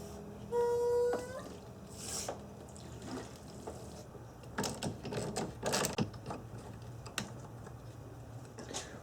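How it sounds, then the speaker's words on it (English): A basic hand pump drawing fluid during an Audi S4 valve cover gasket job: an opening squeaky stroke, then scattered clicks, knocks and mechanical rattles at close range. "So a very basic hand pump"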